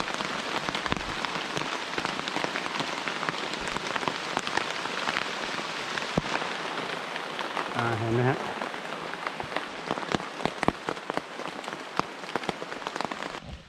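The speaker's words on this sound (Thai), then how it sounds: "ชุ่มฉ่ำมากนะครับ ฝนตอนเนี้ย" Steady heavy rain patters densely on surfaces in a forest throughout, with sharper drops ticking close by and a brief voice speaking Thai partway through.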